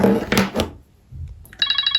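After a few thumps and handling sounds, an alarm starts ringing close by with rapid, pulsing electronic beeps.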